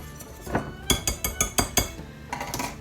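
Dry biscuit ingredients with garlic powder and salt mixed in a bowl, giving a run of sharp clinking taps of utensil against the bowl, about eight close, distinct knocks in an uneven rhythm, then a softer scraping stir.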